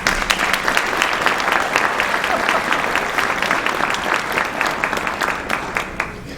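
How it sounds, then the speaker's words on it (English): An audience applauds at a Christmas music show, with dense, steady clapping that fills the whole stretch at close range, lightly thinning toward the end. "I think they deserve one more round of applause."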